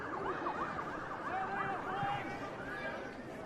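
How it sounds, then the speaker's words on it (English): Sirens wailing through a crowd at a night rugby league World Cup qualifier at Wentworthville, Cook Islands against South Africa, rising and falling steadily over constant stadium chatter and commentary. "it's the sirens here at Wentworthville tonight"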